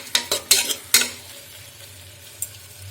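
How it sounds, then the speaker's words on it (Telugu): Tomatoes fry in a pan while a spoon stirs them, giving several sharp scraping knocks in quick succession at first, then a soft ongoing sizzle and one more scrape toward the end. "టమాటా కొంచెం పచ్చివాసన పోయే వరకు వేగించుకోవాలి"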